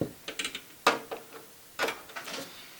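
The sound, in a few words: PC case screws being loosened by thumb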